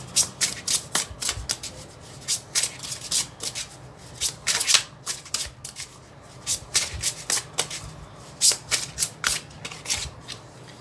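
Tarot cards are shuffled by hand close by in quiet, repeated bursts of riffling and sliding that come in irregular clusters.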